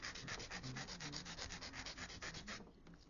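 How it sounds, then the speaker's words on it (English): A nail file rubs quickly back and forth over small stamped nail decorations, giving close, rhythmic rasping strokes that run steadily and then stop near the end. "I'm really filing these little things down a lot."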